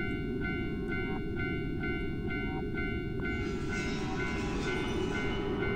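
A train in the horror video game Tsugunohi, set at a railroad crossing, rumbles continuously and heavily throughout, with ringing tonal notes layered on top and a brighter rushing swell toward the end.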